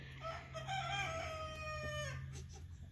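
Rooster crowing a long drawn-out cock-a-doodle-doo among chickens in a backyard enclosure, a single crow fairly close and clear over a steady low hum, followed by soft clucking.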